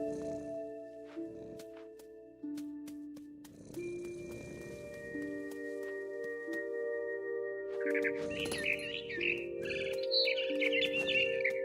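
Birds chirp in the What Remains of Edith Finch video game, short bright tweets over a tonal musical score with soft rustling, building toward a cluster of calls near the end.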